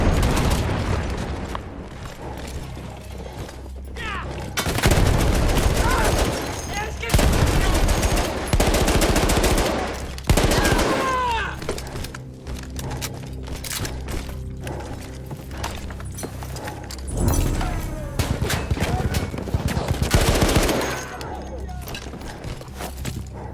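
Battlefield 1 combat: bursts of rapid machine-gun fire and heavy booming explosions rolling over a continuous battle din, loud and close, with voices talking over the chaos.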